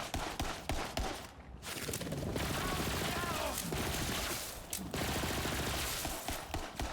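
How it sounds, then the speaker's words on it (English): Rapid, dense gunfire from the Borderlands 3 video game, with sustained automatic bursts filling the scene nearly without pause and someone talking over the shooting. "Somebody shooting at me?"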